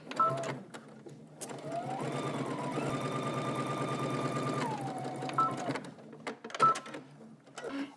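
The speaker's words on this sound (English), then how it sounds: "You're going to stitch just along that edge" A sewing machine runs a steady, continuous stitch along the edge of a garment pocket for about four seconds, its motor whir close and even, with brief handling clicks and rustles of fabric before and after.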